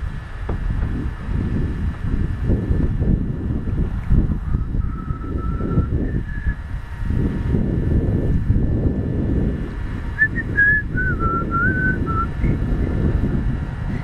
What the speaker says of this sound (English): Guess I shouldn't whistle while I